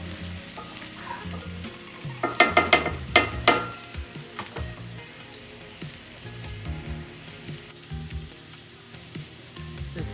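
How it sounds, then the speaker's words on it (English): Home fried potatoes with onions, green peppers and fresh garlic crackle in a pan, a low steady sizzle broken by a cluster of sharp loud pops early on before settling back to quieter frying. "Quick recipe, home fried potatoes. Onions and green peppers, fresh garlic."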